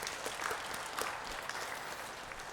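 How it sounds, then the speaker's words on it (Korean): A Korean church congregation claps for the praise team during a worship service: a close, even wash of many hands that holds steady without talk throughout. "박수 드리겠습니다."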